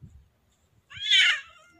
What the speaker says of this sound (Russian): Отгоняют от своего домика черного кота.